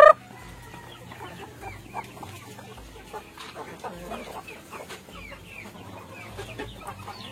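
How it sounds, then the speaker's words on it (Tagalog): Rhode Island Red chickens cluck and murmur in a backyard flock, with an occasional crow. Soft, overlapping calls continue steadily throughout with no talking. "Ito yung ating mga Rhode Island Red."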